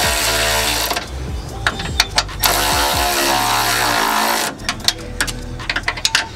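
Wrench tightening sway bar bolts on a Nissan 370Z during a Hotchkis sway bar install, heard as an air or power tool whirring in bursts, followed by sharp metallic clicks and taps up close.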